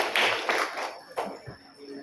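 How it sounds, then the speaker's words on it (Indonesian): A church congregation at a Christmas service claps hands briefly, a few soft scattered claps in a reverberant hall, fading quickly into quiet murmuring. "Kita tepuk tangan dulu."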